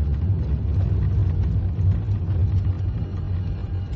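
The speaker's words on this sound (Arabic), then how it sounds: "إلى أن سمع من بعيد هدير السيارة" A four-wheel-drive car rolls closer with a steady, heavy low engine rumble that stays loud and even throughout, with no voices.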